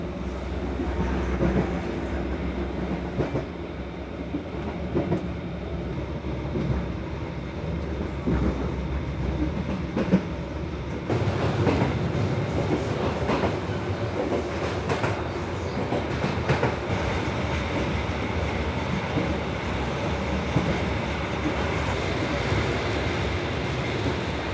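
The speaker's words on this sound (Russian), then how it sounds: "сейчас еду на поезде" Steady rumble and rhythmic clatter of a passenger train in motion, heard from inside a carriage in Vietnam, with occasional louder clicks of the wheels over rail joints and no talking.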